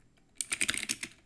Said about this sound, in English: We can type, this is interesting.